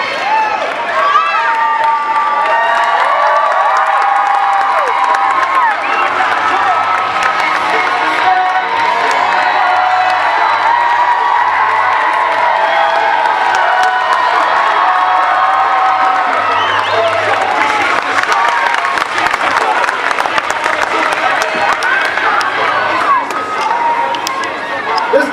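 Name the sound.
crowd cheering and shouting at martial arts demo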